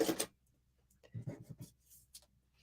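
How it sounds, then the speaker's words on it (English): A few short, soft snips and rustles of paper being cut close by, in a quiet room. "Actually, I'm just going to use a pair of scissors."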